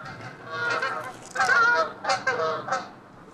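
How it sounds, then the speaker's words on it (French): Ducks honk in several harsh, nasal bursts, fairly close, with no talking over them. "Purée, encore les canards, à chaque fois que je tourne, ils sont là."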